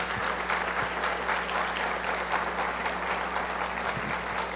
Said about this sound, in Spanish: Yo les pido un aplauso fuerte para Nuria